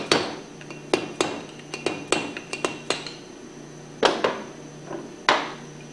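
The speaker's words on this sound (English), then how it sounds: "the seal can be tapped out from the back side gently with a screwdriver" A centrifugal pump seal on a Hypro hydraulic-drive pump is tapped out from the back with a screwdriver: a series of sharp, close metallic taps in irregular bursts with short ringing decays, no voices.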